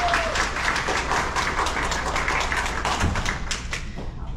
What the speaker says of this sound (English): give her a round of applause